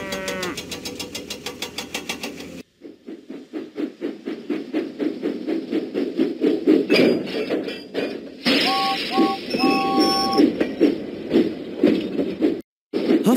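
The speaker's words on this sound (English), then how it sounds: "Huffing and puffing, James set out for Farmer McCall's farm" A cartoon steam train huffing in a Thomas the Tank Engine video game: rhythmic chuffing puffs that speed up steadily, with bright whistle-like tones and chimes over the top and a brief gap near the end.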